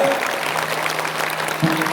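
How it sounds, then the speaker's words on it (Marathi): An audience at a kirtan gives applause for a bhajan group, a steady spatter of hand claps with a faint sustained instrumental tone underneath. "सगळ्यांनी भजनी मंडळासाठी टाळ्या वाजवायच्या. वाजवा टाळ्या"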